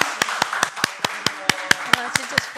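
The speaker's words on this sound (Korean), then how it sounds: "새로운 시작을 우리의 응원하는 의미에서 다시 한번 축하의 박수를" Sharp, evenly spaced hand claps ring out in a council committee meeting, a dozen crisp slaps at a brisk steady rhythm, close and clear with a faint voice underneath.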